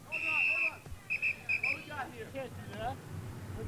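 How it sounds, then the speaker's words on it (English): A referee's whistle shrills at a 1997 men's pro beach volleyball final, one long blast followed by two shorter ones, loud over crowd murmur and a commentator talking. "Right when I blew the whistle."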